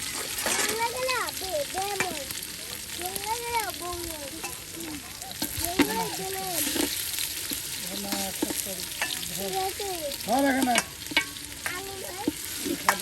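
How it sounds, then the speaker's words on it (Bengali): Onion, garlic and chopped chili frying and being stirred in oil by a riverbank, a steady sizzle with scraping stirs, while a voice talks over much of it. "এই যে এখন পেঁয়াজ রসুন মরিচ কুচি সব কিছু দিয়ে দেওয়া হলো, আর এটাকে এখন আপনার তেলের সাথে সুন্দর করে ভেজে নেওয়া হবে"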